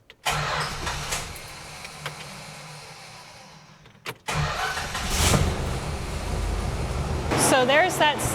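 A 1967 Plymouth Fury turns over with a short crank around the four-second mark, then catches and runs at a steady idle with a faint tick, close by and fairly loud, with some rattling and squeaks near the end.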